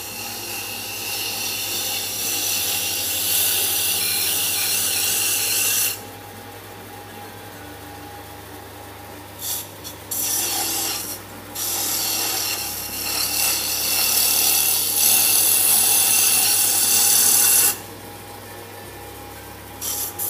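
Wood turning on a lathe: a tool shapes the spinning wood with loud rough scraping and rasping in long stretches, broken by short quieter pauses, heard close and alone.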